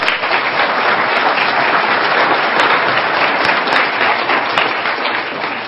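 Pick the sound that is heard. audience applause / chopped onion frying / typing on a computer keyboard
audience applause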